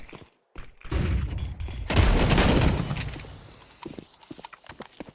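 A flashbang grenade going off in a video game: a sudden loud, broad burst midway that rings and decays over about a second, after scattered sharp clicks and footstep-like taps.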